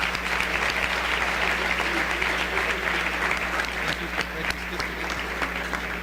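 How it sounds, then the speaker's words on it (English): Sustained applause from an audience, dense clapping throughout over a low electrical hum. "Please give our panelists a final applause."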